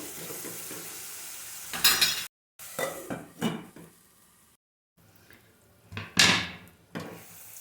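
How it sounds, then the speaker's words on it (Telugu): Onions salted with rock salt fry in a pan for a taro root curry, giving a close sizzle with clanks and scrapes of a utensil against the pan, broken by brief silent gaps. "బాగా ఫ్రై అవనిద్దాం ఆనియన్స్ని."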